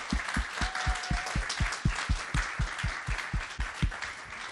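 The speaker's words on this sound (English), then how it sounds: "Can we please just applaud Rosa?" Applause at a public event in West Haven, Connecticut, a moderately distant crowd clapping with a clear rhythmic beat of strong claps running through it, fairly soft overall.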